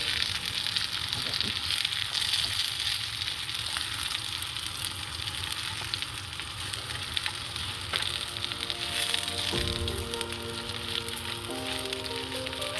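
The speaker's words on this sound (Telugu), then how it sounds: "ఇప్పుడు వేయించిన ఈ ముక్కలను వేసుకోవాలి." Fried cauliflower pieces sizzling in a garlic tempering, a steady loud frying hiss with crackles throughout, stirring clatter toward the end.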